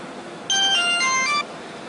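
Mobile phone ringtone chiming a short melodic tune for about a second, loud and close, rising out of quiet room noise and cutting off abruptly, with no voices over it.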